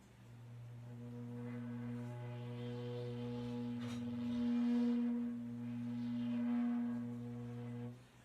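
A shakuhachi holds one long, soft, breathy tone, blown with gentle, subtle breath and swelling slightly midway before stopping, heard alone and close at low volume.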